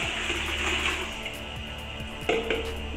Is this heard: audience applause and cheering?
no